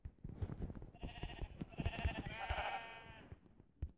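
A goat bleats in a drawn-out, wavering cry for a couple of seconds, close and clear over a background of soft shuffling thumps, with no talk.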